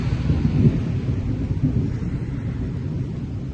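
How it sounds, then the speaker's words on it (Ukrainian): Thunder rumbling in a storm with lightning, a heavy continuous low roll that swells briefly early on and then holds steady, loud and close with some wind buffeting the mic, no speech. "грім такий добрячий і блискавиця така"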